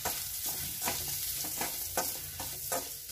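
Vegetable masala with garam masala stirred in a pan for puff filling, a close, steady sizzle with rhythmic spoon scrapes repeating roughly every half second.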